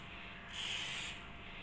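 A single hissing burst of orange-scented furniture polish sprayed from a can at home, lasting about half a second, close and moderately loud against a quiet background.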